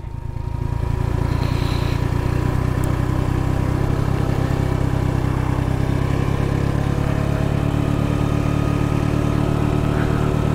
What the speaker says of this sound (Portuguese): Tô usando freio motor e o freio aqui da Pop, ó. Tô descendo em primeira marcha.